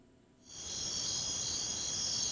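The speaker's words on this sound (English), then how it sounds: "Crickets. Crickets. You asked for sound effects." Crickets chirp in a steady, continuous high trill that begins abruptly after a brief near-silence and holds at a constant level throughout, with no voices.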